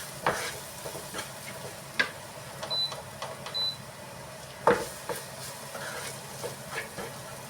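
Okra with turmeric powder is stirred in a pan, making a soft sizzle with distinct spoon scrapes and clinks, and a short electronic beep sounds twice in the middle.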